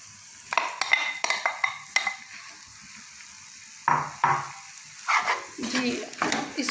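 Grated boiled potato is mixed into shredded chicken for kebabs, with clusters of scraping, clinking spoon strokes against a pot and brief gaps between them, close and moderately quiet.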